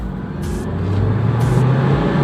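A Toyota Fortuner engine revs steadily in fifth gear as a loud, close, continuous drone with a low rising tone, and two brief bursts of hiss break in over the running engine.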